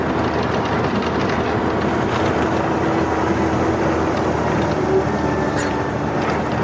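A truck engine-braking down a mountain road in Manipur gives a steady, loud, low rumbling drone that holds without a break, with faint road noise over it and no talking.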